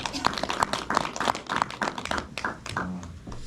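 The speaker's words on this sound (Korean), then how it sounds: "한번 박수 한번 보내주시면 좋겠습니다." Scattered clapping from a small audience at a Maeji nongak (farmers' music) event, individual claps distinct and uneven, moderately close, with faint voices mixed in.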